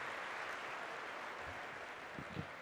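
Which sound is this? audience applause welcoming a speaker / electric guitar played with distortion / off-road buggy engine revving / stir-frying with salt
audience applause welcoming a speaker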